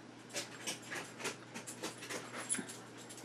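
A dog pants nearby with soft, quick, airy breaths in an uneven rhythm, quiet and alone, with a faint hum underneath.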